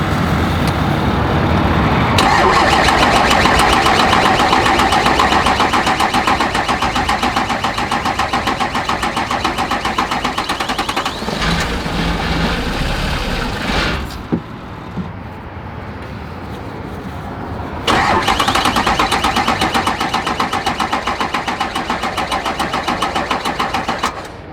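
A diesel truck engine that ran out of fuel, with a low battery, cranks and runs roughly in a loud, close, continuous rattling drone, briefly dropping off and then picking back up, with no talking.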